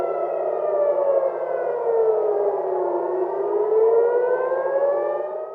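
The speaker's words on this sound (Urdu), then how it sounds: "ادھر اسرائیل میں ایرانی حملوں کے بعد خطرے کے سائرن بج اٹھے" Air raid warning sirens wailing in Israel after Iranian attacks, a loud civil defense siren tone sliding down and back up in pitch, sustained and alone.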